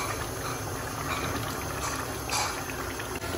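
Black chickpea curry masala being sautéed in a pot over a high flame, heard as a steady, dense, close sizzling hiss with bubbling underneath throughout, and no voices.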